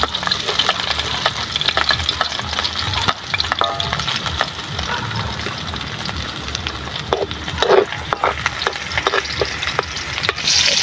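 Garlic frying in a pot of hot oil as pork belly humba is cooked, with steady sizzling and occasional stirring scrapes and clicks running throughout, close and fairly loud with no talking.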